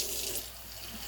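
Water pours steadily into a slow cooker holding rice, a continuous close hiss of a running stream with no pauses.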